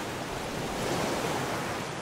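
Ocean waves lap around a raft in a survival video game, a steady, continuous wash of surf that stays even and moderately loud for two seconds, with no voices.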